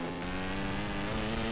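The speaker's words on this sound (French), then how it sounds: "oui c'est la moto" Steady, continuous motorcycle engine drone from the MotoGP15 racing video game, a loud sustained harmonic whine holding near-constant pitch with no talk over it.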